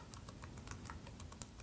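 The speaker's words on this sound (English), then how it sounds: "And now I'm going to type" A web address is typed on a computer keyboard, a quiet run of rapid, irregular key clicks heard close up with no talk.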